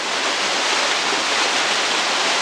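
Steady, loud rushing of a waterfall on a river near Jaca by the Cueva de Las Güixas, with a continuous broadband roar and no voices.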